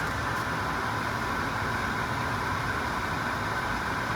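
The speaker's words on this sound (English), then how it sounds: "We are going to start the engine and build up our pressure" A truck engine idling steadily while its air system builds pressure, a constant low rumble with a faint hiss, even and unchanging throughout, no voices.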